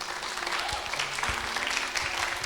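Scattered applause from a church congregation at a Sunday service, a steady wash of hand clapping at moderate distance under a faint low hum.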